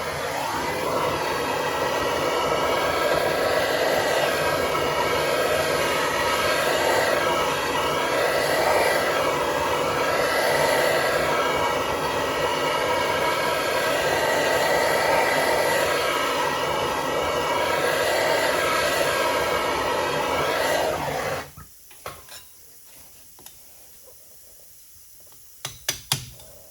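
A heat gun roars steadily and loudly up close while warming lead wheel weights on a Humvee wheel, then cuts off abruptly, leaving near silence broken by a few faint clicks and knocks.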